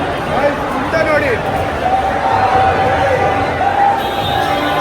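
Large crowd of cricket fans packed along a road on the way to the RCB final, a dense steady roar of many voices with whistles and shouts rising throughout.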